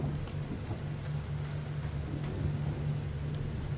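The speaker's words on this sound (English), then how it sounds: "Storm's coming." A steady storm in The Forest: continuous rain pattering on surfaces with a low rumble of thunder underneath, even and unbroken throughout.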